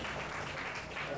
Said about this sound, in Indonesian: tepuk tangan dulu dong buat Popo.